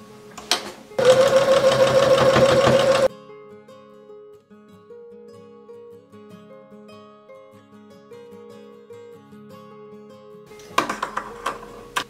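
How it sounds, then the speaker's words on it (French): A sewing machine stitching a washable makeup-removal wipe runs in a loud, fast two-second burst, then goes quiet under soft background music before a second short stitching burst at the end. "et on passe à la couture."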